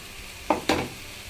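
Cubed capsicum lands in a hot pan with two quick bursts of sizzling and stirring, then settles into a quieter hiss.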